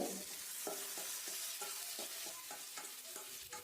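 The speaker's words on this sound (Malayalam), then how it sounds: "ഇനി വെളിച്ചെണ്ണ നന്നായി ചൂടായി വന്നതിന് ശേഷം നമുക്ക് നമ്മളെ മാവ് ഇതിലോട്ട് ഒഴിച്ച് കൊടുക്കാം." Potato batter poured into hot coconut oil sizzles continuously in a pan, with a soft hiss and a series of repeated light scraping or stirring taps at close range, fairly quiet overall.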